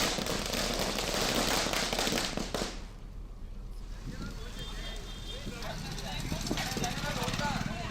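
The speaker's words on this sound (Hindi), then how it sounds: "कोर्ट के आदेश के बाद आतिशबाजी की गई।" Celebration fireworks in Dhar, Madhya Pradesh, India crackle and pop in dense bursts, a loud barrage easing into scattered snapping crackles, with voices mixed in among the noise.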